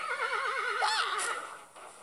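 A horse in a video game lets out a loud, close whinny with a wavering, rising-and-falling pitch that fades out over about two seconds, with no talking.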